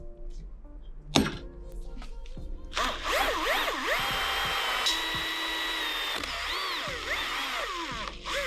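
A power drill bores a hole in a Honda CB500 motorbike part during an engine and swingarm rebuild. After a sharp knock, a steady, close, whining drill run starts and holds for several seconds, its pitch rising and falling under load.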